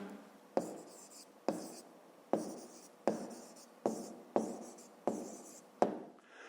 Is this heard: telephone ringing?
no